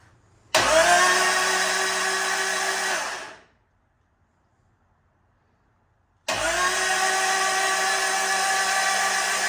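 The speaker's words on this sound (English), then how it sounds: "we're going to try and crank it without any of the electrics connected" A Caterham Seven engine with its spark plugs removed spins on the starter motor in two long whirring bursts of about three seconds each, split by a few seconds of silence. The sound is loud and steady and there is no talk.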